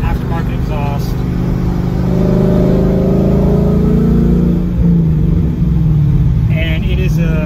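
A Ford Mustang with a Gibson cat-back exhaust and X-pipe burbles and revs loudly nearby, its deep engine note rising and falling while someone talks over it.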